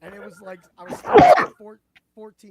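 A single sharp sneeze bursts out in the middle of a person's speech, loud and brief, with talking before and after it.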